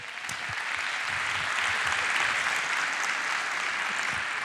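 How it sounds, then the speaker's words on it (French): An audience in a theatre applauds award winners at an entrepreneurship awards evening, a dense, sustained wash of clapping from many hands that swells slightly and holds steady throughout. "Vous pouvez déjà toutes et tous les applaudir."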